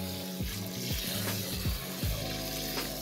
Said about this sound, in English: Cold water to wash the rice.